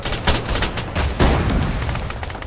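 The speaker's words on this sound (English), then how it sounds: "Another RPG coming along that tank." Sustained gunfire and heavy blasts in a war video game, with RPG rockets striking near a tank: dense rattling shots and a louder booming hit midway, all continuous and close.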